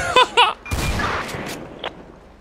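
Shots ring out in GTA 5 during a Texas state trooper patrol: two short tonal blips, then a loud broadband volley of a few close gunshots that tails off into a fainter rumble and one last crack.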